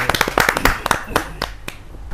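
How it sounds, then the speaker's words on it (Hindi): Audience clapping at a Hindi kavi sammelan poetry gathering, a burst of many hands loud and close at first, then thinning into scattered claps that fade out over a couple of seconds. "तो जोरदार ताली के साथ एक हास्य व्यंग्य की रचना के लिए मनोज मिश्रा कप्तान।"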